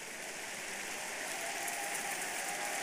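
Church congregation applauding in worship, a dense, continuous wash of clapping at steady volume from start to finish.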